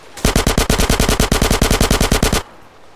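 Rapid automatic gunfire from Grand Theft Auto: San Andreas, a loud sustained burst of evenly spaced shots lasting about two seconds before cutting off abruptly.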